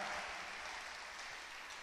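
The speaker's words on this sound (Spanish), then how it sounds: "Démosle un aplauso a Dios por su palabra" Steady, dense clapping from a church congregation, fairly quiet and even throughout, with no voices standing out.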